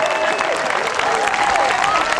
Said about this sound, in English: A big, big round of applause for that